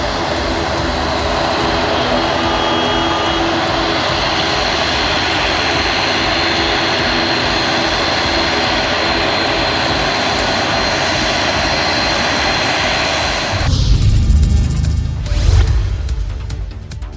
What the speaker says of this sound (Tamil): இன்று சென்னையிலிருந்து இண்டிகோ நிறுவனத்தின் விமானம் திருச்சி வந்தடைந்தது